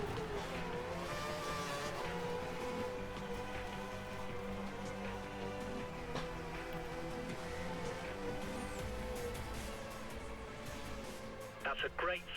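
Formula 1 race cars from the F1 2013 video game lap the Monaco street circuit, a steady, dense engine drone with layered high-revving tones that holds throughout, continuous and loud, ending with a few brief bursts.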